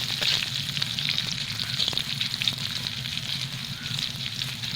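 Whole curry leaves dropped into hot oil for an amla tamarind pickle, sizzling and crackling continuously at close range with small pops, no speech.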